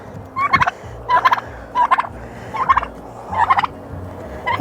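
A pet turkey on a backyard farm gobbling repeatedly, about six loud warbling calls in a steady rhythm, close by and with no talk over them.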